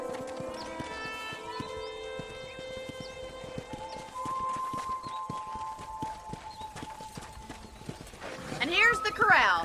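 Horse hooves clip-clop in a steady walking rhythm beneath tonal background music, with speech in the mix and a neigh near the end, at a ranch corral in Red Dead Redemption.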